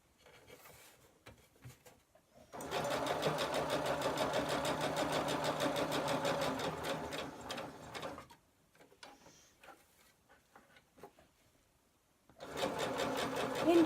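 A sewing machine stitches a coin purse in two long, fast, steady bursts separated by quiet pauses with faint handling sounds, close and clear.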